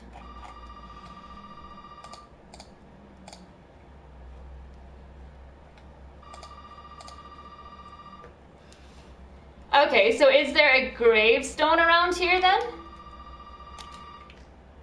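A telephone rings repeatedly in Resident Evil 7, its tone recurring in spaced bursts while someone talks over the scene.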